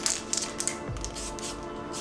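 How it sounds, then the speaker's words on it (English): An aerosol can of plastic primer hisses onto wheel center caps in a steady spray burst. It is preceded by a few light clicks and is heard up close, with no talking. "First, I'm going to spray some plastic primer."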